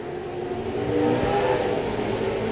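Nor-Cal late model race cars run at Lakeport Speedway during a 1996 main event, making a steady engine roar that swells slightly as the cars pass, with no other sounds.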